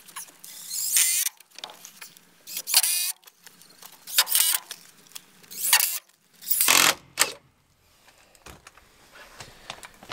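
A powered screwdriver drives screws to fix a homemade wall-mounted hay feeder for goats in place, in several loud whirring bursts separated by short pauses.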